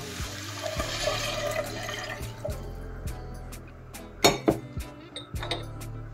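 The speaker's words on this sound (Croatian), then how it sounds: "Dodat ćemo ovu supu." Liquid soup is poured into a pot of tripe stew (škembe čorba), giving a splashing gurgle, followed by sharp clinks and knocks of utensils against cookware, close and moderately quiet.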